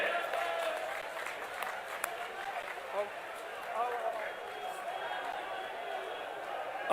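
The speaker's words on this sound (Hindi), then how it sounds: "जोरदार तालियों से स्वागत किया जाए।" Crowd at an outdoor Congress election rally in Haryana applauds in a steady, fairly distant wash of clapping, with faint chatter and a voice over the loudspeaker in the background.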